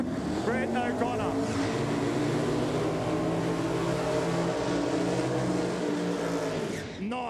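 A drag race car at the NPRA Sydney Cash Days Shootout, in a $5,000 round, skidding on the strip. It gives a loud, sustained engine roar with harsh tyre noise, while a commentator talks over it throughout.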